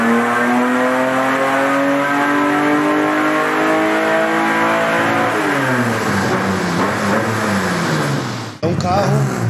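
A 400 hp Chevrolet Opala Gran Luxo street car roars through a full-throttle dynamometer pull, its engine note climbing steadily and loud, then dropping back abruptly near the end.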